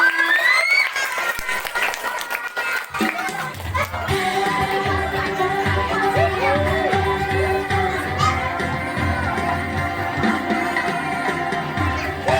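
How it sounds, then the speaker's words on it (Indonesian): Audience applauding and cheering after a fourth-grade class's Indonesian-language drama at a school performance, with steady crowd clapping that stays loud and dense, mixed with children's shouts and a voice over a hall sound system. "Tepuk tangan semuanya."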